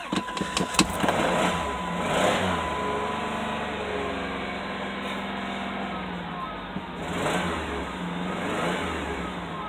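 A 2000 Dodge Grand Caravan SE engine idles roughly with a misfire, running steadily throughout with a few sharp knocks near the start, while people talk over it nearby.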